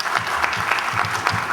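Audience applause at a data-protection commemoration ceremony: a steady, close wash of many hands clapping continuously through the short moment, with no speech over it.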